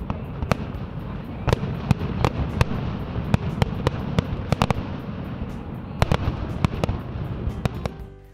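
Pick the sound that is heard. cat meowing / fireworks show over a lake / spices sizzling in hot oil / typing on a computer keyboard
fireworks show over a lake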